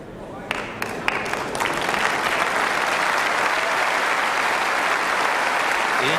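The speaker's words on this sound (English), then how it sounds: "encouraged by applause from the crowd" Sustained applause from a crowd at a bowls world championship final, beginning with a few scattered claps and swelling into steady, dense clapping that holds for several seconds.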